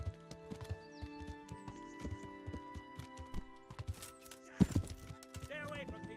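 Horse hooves clip-clop at a steady walking rhythm in the medieval role-playing game Kingdom Come Deliverance, moderately close and mixed with other game sounds and a brief heavier thump.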